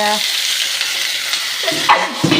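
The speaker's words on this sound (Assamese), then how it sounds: "দুপৰীয়া সাজৰ বাবে বুট আলু তেলতে ভাজিছোঁ" Chickpeas and potatoes fry in hot oil with a loud, steady sizzle, close up, broken by a few scraping stirs near the end.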